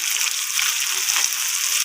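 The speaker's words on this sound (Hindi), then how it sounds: "अच्छे से इसको भून लेंगे ताकि इसका पानी जो है वो अच्छे तरीके से खुश्क हो जाए" Cauliflower fries in a pan for Chinese biryani, giving a steady, close hiss and sizzle of moisture cooking off, continuous and even throughout.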